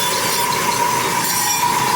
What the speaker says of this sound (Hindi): उस्ताद छुरियाँ बुदा सब तेज़ करना